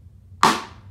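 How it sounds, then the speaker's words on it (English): A single cross stick hit on a snare drum gives one sharp, woody click that rings briefly and fades fast, heard alone against a quiet background. "So now, for a cross stick, it's a much quieter sound."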